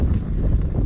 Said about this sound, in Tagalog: And sobrang hangin.